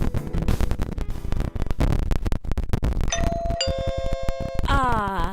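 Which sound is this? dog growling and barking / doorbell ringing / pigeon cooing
doorbell ringing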